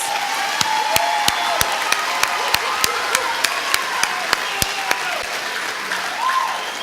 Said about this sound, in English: One more round of applause for our honor roll students.